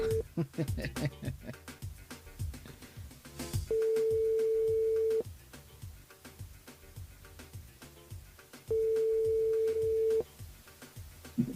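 Telephone line on a live French radio call-in show, with two long steady busy or ringing tones sounding clearly amid the presenter's chatter and background studio music.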